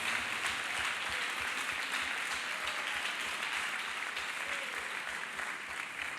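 A church congregation claps for Jesus at a healing service, steady rhythmic clapping from many hands forming a loud, continuous wash throughout.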